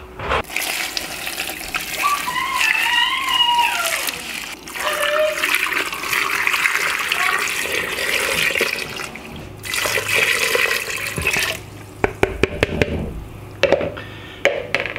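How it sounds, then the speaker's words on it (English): Tap water runs and splashes steadily as two quarts are poured into a container to make salt brine, a continuous wash of water with a few clinks and knocks near the end. "And then I pour in, I'm starting with 2 quarts of water."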